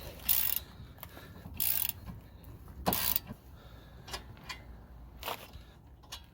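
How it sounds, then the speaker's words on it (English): A ratchet works on the caliper bracket bolts of a Jeep Renegade during a front brake job, with a few loud metallic clicking bursts and softer ticks close by, and no talk. "Now we can go ahead and remove our 2 caliper bracket bolts. Go ahead and break your first one loose"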